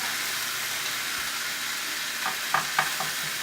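Steak for a steak sandwich searing in a hot pan, giving a steady broad sizzle close by with a few sharper crackles and pops toward the end.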